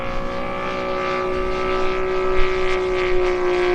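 A radio-controlled Seagull Models 87-inch F4U Corsair with a radial engine drones loudly and steadily overhead, its buzzing tone holding even with slight swells as it flies, and no one talks.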